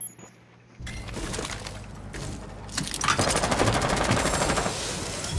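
Automatic weapon fire in Rainbow Six Siege on the Kafe Dostoyevsky map, with sustained loud bursts of rapid shots building after a quiet start, plus some breaking debris.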